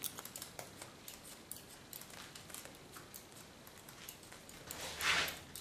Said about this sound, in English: Just play with my scissors.